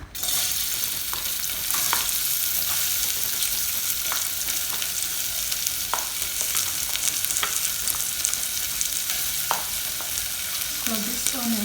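Chopped onions frying in a little oil in a pan, a steady close sizzle with occasional stirring scrapes and clicks, no talking.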